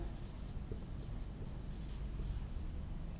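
A pen scratches softly across paper while an amount is written out in words in a receipt book, with faint, continuous scribbling close by and small strokes over a quiet room hum.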